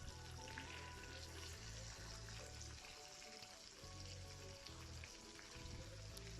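Fish pieces fry in hot oil for a second time with a constant soft sizzle and crackle, faint and steady throughout.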